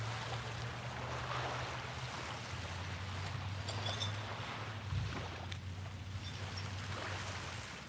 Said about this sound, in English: The waves are quiet today, aren't they?